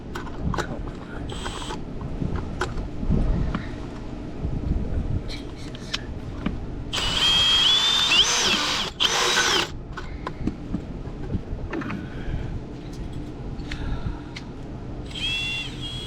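New power drill running during a pool pump install: several short whirring bursts with gear rattle and ratcheting clicks, including a louder sustained high whine in the middle, heard up close with no talk.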